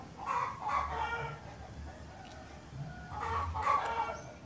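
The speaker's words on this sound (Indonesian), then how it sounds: "kita abaikan saja suara ayamnya" Chickens cluck and a rooster crows nearby in two bursts of calling a few seconds apart, moderately loud, with no talking.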